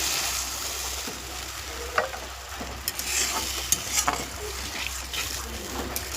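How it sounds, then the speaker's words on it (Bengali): Fried masala for a catla fish curry hisses and sizzles in the pan as water goes in, with a few sharp utensil clinks over the steady bubbling; close, no talk. "এবারে আমি জল দিয়ে দেব"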